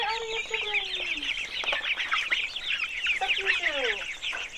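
Chickens cluck and squawk in a busy, continuous chorus inside a chicken house, with overlapping calls throughout and a few rising squeals standing out.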